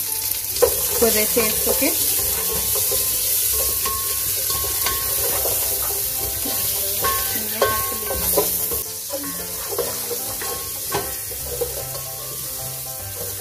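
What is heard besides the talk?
butter sizzling in pan for butternut squash soup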